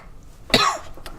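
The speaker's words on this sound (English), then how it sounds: "I'm coughing" A single sharp cough bursts out mid-clip and fades quickly, with quiet room tone before and after.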